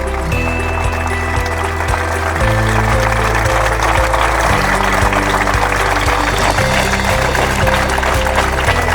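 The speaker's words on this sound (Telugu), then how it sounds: "ఎంత గట్టిగా చప్పట్లు కొట్టగలరు అంత గట్టిగా చప్పట్లు కొట్టండి" A church congregation claps loudly, a dense, continuous wash of applause over steady musical accompaniment, sustained and close for the whole stretch with no pauses.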